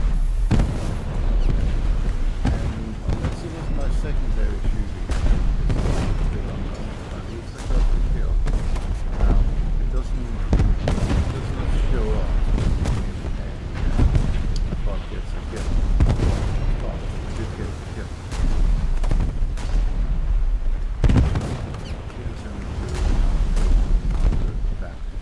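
Naval secondary guns firing during naval combat in a video game: a steady stream of booming shots, some heavy and some sharper, at irregular intervals over continuous rumbling battle noise, loud and near.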